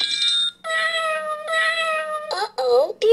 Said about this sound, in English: Ming Ming, we'll get that kitty cat out of the tree.